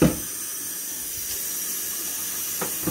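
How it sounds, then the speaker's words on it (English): Running water from a tap rinses out a cooking pot in a steady, close hiss of flowing water. "rinse the pot out"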